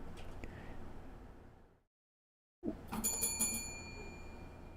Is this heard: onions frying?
no